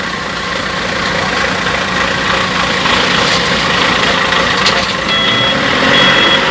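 A dump truck hauling stones in Chanthaburi slowly tips out its load, with a steady, loud engine drone running throughout and a faint gravelly rumble beneath it, while no one speaks.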